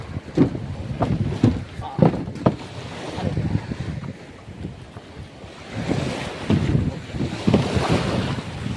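Ocean waves wash and surge in repeated swells with gusty wind buffeting the microphone, heard up close outdoors.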